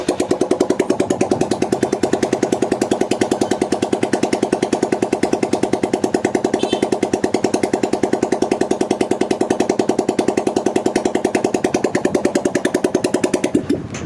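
A Hero Karizma motorcycle engine, being checked for rectifier charging, runs at a steady idle with a fast, even, throbbing exhaust pulse throughout, close and loud, then cuts off near the end.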